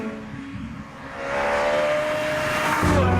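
A Ferrari F430 Scuderia supercar drives by close, its engine note steady and then rising into a loud, hard-revving roar, with no one talking.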